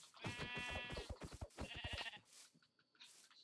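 Several quavering Minecraft sheep bleats sound in quick succession, fairly close and clear, followed by a short pause and a fainter bleat.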